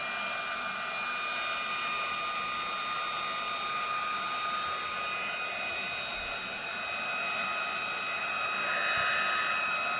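A heat tool blows steadily with a whirring fan and hiss, setting pigment on Whisper White card stock in one continuous run.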